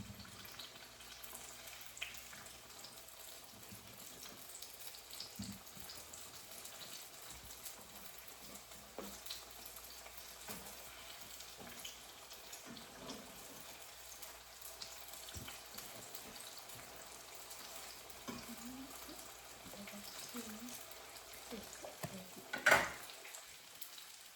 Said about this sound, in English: So it's frying on the other side guys.